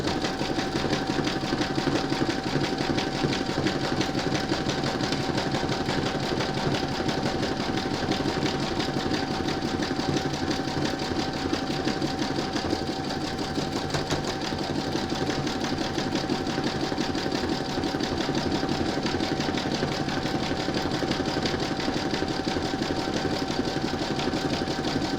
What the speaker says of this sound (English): load whichever colour thread you want into your machine, and then you're going to stitch round number 9.